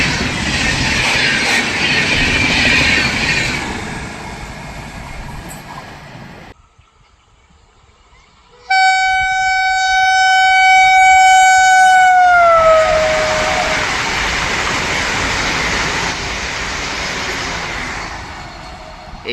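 A Vande Bharat express train rushes past with a loud roaring rumble, a short lull, then a long, sustained multi-tone horn blast over the continuing heavy rolling clatter of the wheels.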